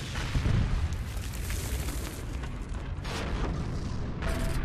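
Tank combat in Heroes and Generals, with a Jagdpanther tank destroyer taking hits: a heavy boom at the start, then rumbling engine noise and further impact blasts, loud and close.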